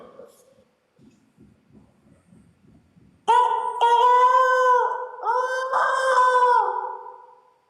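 A rooster crows twice, loud and close, the drawn-out cock-a-doodle-doo rising after a few seconds of quiet low murmuring.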